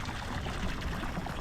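Water trickles and pours into the floor of an iKon LX21 boat through the open drain hole with the plug left out, a steady, close, faint splashing stream with no speech.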